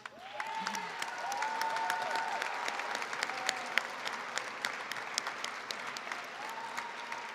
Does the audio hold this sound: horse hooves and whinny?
no